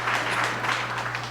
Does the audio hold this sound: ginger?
no